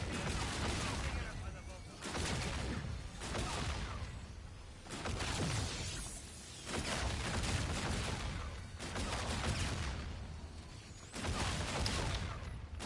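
Pack-a-Punched guns fire in Zombies in Spaceland in repeated dense stretches of rapid gunfire lasting a second or two each, with short breaks between them, at low overall loudness.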